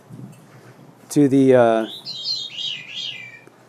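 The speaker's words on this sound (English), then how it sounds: "It's a veery. It's a thrush." A short voiced sound gives way to a thrush's airy, fluting song that spirals downward in wavering phrases, clear and fairly close.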